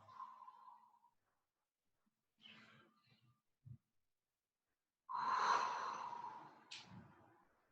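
Slow, drawn-out breaths during a gentle relaxation and movement exercise, with a soft exhale near the start, a quieter breath in the middle, and a longer, fuller breath out toward the end.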